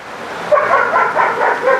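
Dogs barking at a distance on a cold Saturday afternoon, a few uneven barks and yips over steady outdoor background noise, with no voices.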